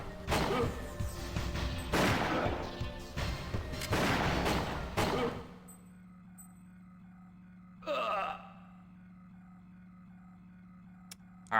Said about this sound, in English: Gonna shoot one more barrel here.